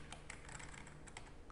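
Barcode digits typed on a computer keyboard, a quick run of light, crisp key clicks in an irregular burst, close and quiet, with no voice.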